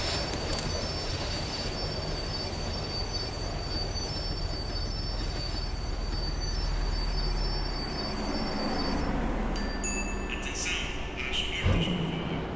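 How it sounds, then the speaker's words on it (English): A tram in the video game Max Payne 3 slows down, with a steady loud rumble of wheels on rails, high metallic squeals and rattles near the end. "The tram was slowing down, and I'd only just gotten on board."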